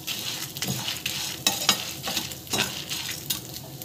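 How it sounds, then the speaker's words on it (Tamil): Chillies sizzle and crackle in a hot pan, with a spoon stirring and scraping in irregular strokes, close up and steady. "மிளகா வந்து நல்லா வந்து வதக்குது"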